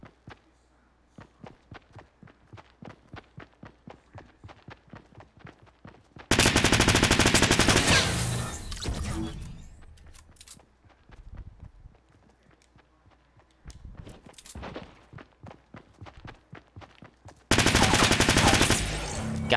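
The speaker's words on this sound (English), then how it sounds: "All I got is this crappy submachine gun." Fortnite Battle Royale gameplay with running footsteps and rapid submachine gun bursts, two long loud sustained volleys and a shorter burst, close and dominant over the patter of steps, with no talking.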